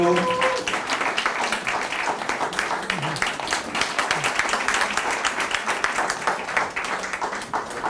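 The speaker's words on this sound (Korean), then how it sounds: "선생님은 큰 박수로 무대로 모시도록 하겠습니다" An audience claps to welcome a guest onto the stage, brisk applause building and continuing steadily, with a voice speaking briefly at the start.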